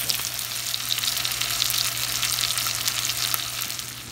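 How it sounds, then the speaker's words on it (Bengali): Capsicum and coriander leaves go into a beef chili fry in a pan, producing a loud, steady, continuous sizzle and frying hiss throughout with no talking. "চিলি ফ্রাই হয়ে যাওয়ার পথে এখন আমি ক্যাপসিকাম দিয়ে দেবো"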